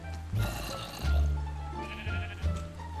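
Sheep bleating in the Minecraft video game, several distinct bleats in sequence, loud and close over a busy game soundtrack.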